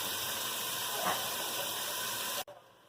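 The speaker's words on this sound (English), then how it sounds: "Just going to let this cook until it gets brown all over." Beef browning in a pot for vegetable soup gives a steady, close hiss of sizzling fat that runs unbroken and then cuts off abruptly near the end, with no talk.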